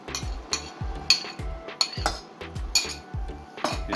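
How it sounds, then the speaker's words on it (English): A spoon clinks rhythmically against a pot while stirring yogurt into onion masala, sharp metallic taps repeating about twice a second, close and clear with no talking. "So now I'll add some yogurt."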